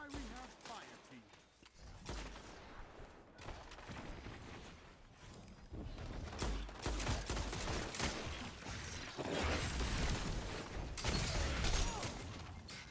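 Shotgun blasts and melee hits in a first-person shooter quickplay tournament, part of a dense, continuous clatter of gunfire and impacts that builds louder toward the end, with voices talking underneath.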